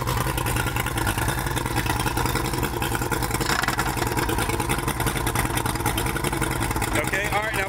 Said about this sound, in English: when it clicks up, it's gonna get a little louder. The engine's gonna rev up.